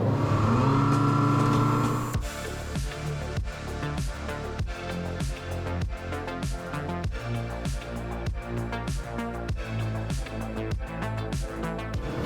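A Selva XSR outboard motor on a Selva 700 Stile inflatable boat roars up to speed, starting with a steady loud tone before shifting into a powerful pulsing run that carries on strongly without talk.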